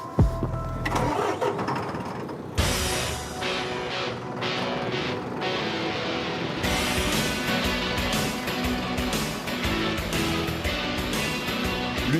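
A motorcycle engine on a street in Yaoundé, Cameroon, cranks over and catches, then settles into a steady mid-pitched running rumble close by, with no voices.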